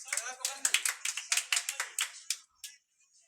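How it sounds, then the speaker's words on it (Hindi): Audience claps for a student named Aamir at a 10th-grade school farewell, a quick run of sharp, separate hand claps that thins out and stops after a couple of seconds. "ताली हो जाए भाई आमिर के लिए।"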